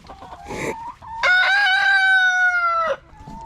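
A backyard rooster crows loudly and close by, one long drawn-out crow, with a brief burst of clucking and squawking from hens just before it.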